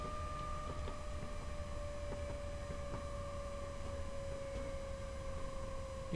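A steady electric train engine hum in Train Simulator 2021, on the Fife Circle route from Edinburgh, drones on with a constant tonal whine and no pauses.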